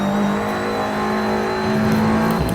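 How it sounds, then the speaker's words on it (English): Race cars accelerate hard down the hill at the Brands Hatch circuit, their engines giving one sustained, loud, high-revving drone that climbs steadily and then drops off near the end. "Accelerating down the hill."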